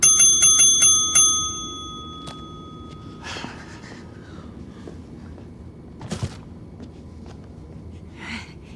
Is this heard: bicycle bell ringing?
yes